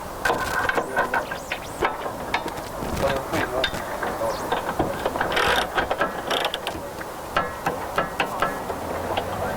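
A ratchet or wrench clicks in quick, uneven bursts while the rear spoiler bolts on a Porsche Boxster 986 are loosened and retightened, close up with light rustling between the bursts.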